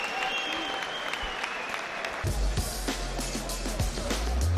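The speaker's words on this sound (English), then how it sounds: "gets sympathetic applause from a crowd" A boxing crowd in Dublin applauds sympathetically with sustained clapping, while a low rumble and faint voices join partway through.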